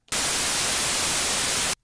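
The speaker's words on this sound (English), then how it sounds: "So with white noise, what I want you to do is I want you to notice where this is peaking out on the meter." A synthesized white noise burst of steady full-spectrum hiss, loud and flat, starts abruptly, holds for about a second and a half and cuts off sharply, with no voice over it.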